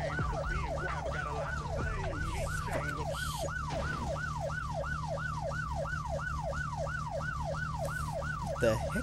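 Police siren in the My Winter Car video game, a rapid wailing yelp that cycles steadily over a low engine drone, loud and constant throughout.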